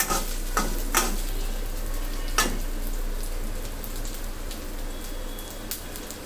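Two cloves of Indian garlic and thinly sliced ginger fry in hot oil, giving a steady, close sizzle broken by a few sharp clinks from stirring.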